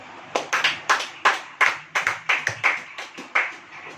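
Church congregation clapping hands in a sermon: a small group clapping in a loose, roughly regular rhythm, about a dozen distinct claps over four seconds, fairly close and alone without talk.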